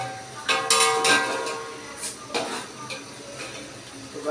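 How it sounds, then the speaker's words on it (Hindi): Chicken frying with masala in a pan, with clinks of utensil against metal and stirring scrapes over a steady background sizzle, fairly close and moderate in level. "अभी हम इसको थोड़ा सा और फ्राई करेंगे"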